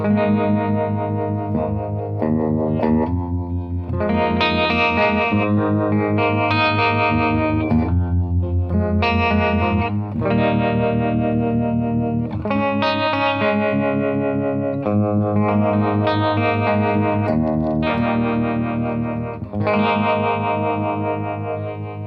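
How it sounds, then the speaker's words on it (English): Electric guitar played through a Strymon Mobius pedal on its vintage tremolo setting at a medium rate, a traditional amp-style pulsing volume swell over sustained chords and picked notes, steady and close for the whole passage. "vintage trem, medium pace"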